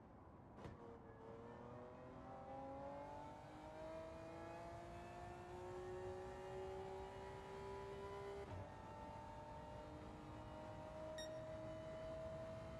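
A race car engine in Gran Turismo 7 cruises at low speed, its steady hum rising gradually in pitch as it eases along, with one brief knock partway through and no talking.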